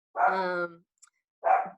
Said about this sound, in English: So if you hear barking in the background